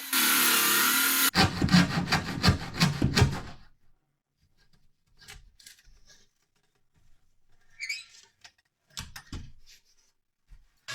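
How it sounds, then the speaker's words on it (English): Handsaw cutting through a plywood shop-cabinet center divider along a screwed-on cleat guide, a loud burst of close strokes at first, then sparse faint scrapes and knocks. "finish off the cut with a handsaw"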